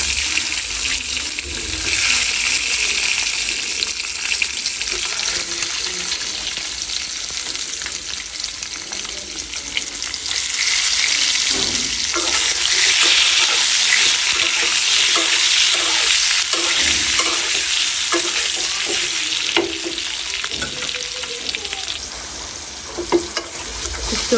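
Potatoes and eggs fry loudly and continuously in a pan, a dense, steady sizzle with occasional stirring and clinks throughout, no talk.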